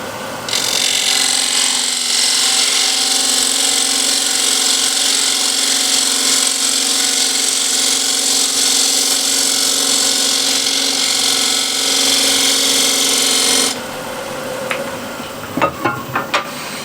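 Wood spins on a lathe under a smaller spindle gouge while a picture frame is turned, giving a steady, loud whirring cut for about thirteen seconds before it stops, followed by a few light knocks.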